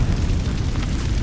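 Incendio fire spell blasting in the Hogwarts Legacy video game, a loud, dense roaring burst of fire with heavy low rumble sustained through the moment, no voices.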